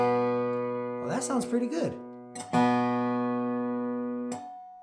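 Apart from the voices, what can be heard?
dobro strings being tuned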